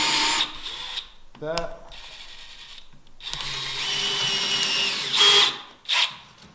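A power drill drives heavy drywall screws into a wooden top cap in several whirring bursts, each spinning up and cutting off, with brief pauses and a short spoken word between them.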